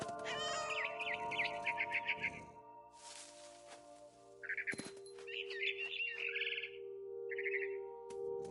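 A cat in the video game What Remains of Edith Finch meows in short, quiet calls, mixed with bird chirps over a soft, steady tonal background.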